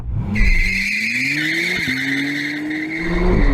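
A McLaren Artura holding a burnout, tires squealing loudly and continuously over a steady engine drone, with pitch shifts as the revs change, close and dominant.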